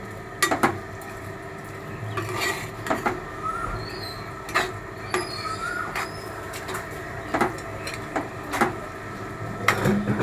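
Spoon stirring a pot of chicken curry, giving repeated metallic clinks and scrapes against the pot in an uneven rhythm, close and clear with no talking.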